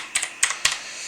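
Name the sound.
typing a code on a computer keyboard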